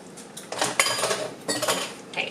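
Bok choy going into a pan of coconut curry with scallops, a couple of short bursts of clattering metal and utensil knocks against the pan, close and brief, with no talking.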